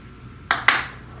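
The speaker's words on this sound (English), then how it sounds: "I'm gonna now spoon it into my pastry bag." A spoon scoops thick, creamy two-ingredient Dole Whip from a bowl into a pastry bag, giving two short, close clinks and scrapes about a fifth of a second apart, with quiet room sound before and after.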